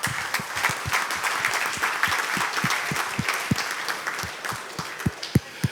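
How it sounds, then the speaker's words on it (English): Audience applause at an industry conversation event, a sustained crowd clap with a few loud individual claps standing out near the microphone, steady throughout. "So give yourself a round of applause."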